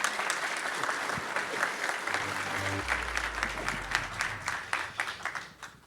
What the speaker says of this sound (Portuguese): Uma salva de palmas para a Simone.